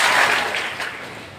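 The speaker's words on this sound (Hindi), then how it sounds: "मेरी उंगली ऊपर जाएगी ना, तब तालियां बजाना, ठीक है?" Indoor audience of students clapping together on a raised-finger cue, a brief burst of applause that swells at once and fades within a second and a half.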